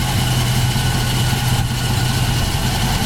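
A 1978 Pontiac Trans Am engine running at idle, a steady low rumbling throb, loud and continuous, with no voices over it.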